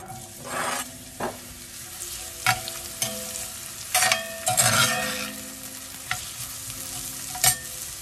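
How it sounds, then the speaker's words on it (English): Chopped red onion hitting about two tablespoons of hot oil, sizzling steadily close up while being stirred, with scraping strokes and occasional pan clatter. "We're going to add in about 1 whole red chopped onions."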